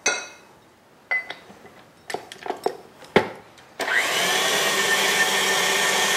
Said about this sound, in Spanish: Aquí voy a cambiar por el batidor de gancho o bien ustedes amasan normalmente